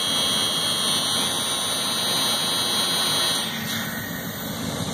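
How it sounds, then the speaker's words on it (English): Electric motor running under a Siemens Sirius 3RW4024 soft starter, a steady loud whine with high tonal hum and broadband noise, holding constant then dropping slightly near the end as starting finishes. "the motor just came on"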